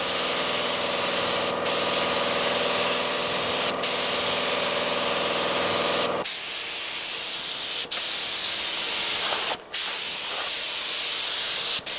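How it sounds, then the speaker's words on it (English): A spray gun lays a second coat of green paint over green on a converted school bus, giving a loud, continuous hiss that cuts off briefly several times between passes. "He's actually spraying the second coat right now"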